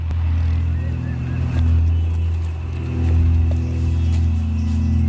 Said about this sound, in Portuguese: os motores do hovercraft alertam as pessoas que processam a cocaína nos laboratórios